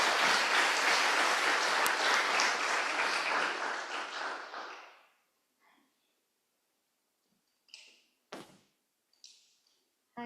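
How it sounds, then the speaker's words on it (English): Audience applause welcoming a speaker to a plenary conference session, a loud burst of clapping that fades out after about five seconds, followed by quiet and a few soft knocks and rustles. "Let's give her a big round of applause"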